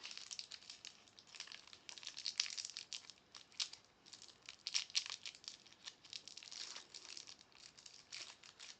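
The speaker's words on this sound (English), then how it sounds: "Sorry for all the crinkly noises." Plastic packaging on a yarn ball winder crinkles and rustles close by as it is unboxed and snipped open, a soft, continuous run of crackling handling noise with no talking.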